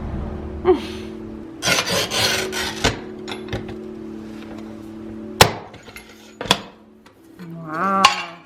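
A manual tile cutter scores ceramic tile with scraping strokes, then a few sharp snaps and clacks, with a low hum beneath; no talking.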